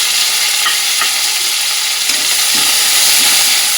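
Peanuts, mustard seeds and curry leaves, with ginger and green chili, fry in a pan with a steady, close sizzle that crackles and hisses without pause and carries no talk.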